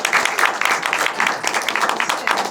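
Audience clapping for the actors at a Korean film screening Q&A, a dense, continuous round of applause from a crowd with uneven bursts of individual claps.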